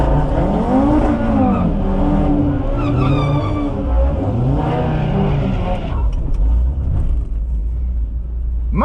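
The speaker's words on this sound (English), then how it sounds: "Much better burnout." Audi RS3, a front-wheel-drive car on drag radials, doing a loud, close burnout at a drag strip, with sustained high engine revs and tire squeal that shift pitch before easing off near the end.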